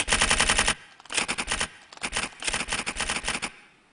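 Rapid typewriter keystrokes clatter in dense bursts, three or four tight runs of crisp, close clicks separated by brief pauses, with no voices.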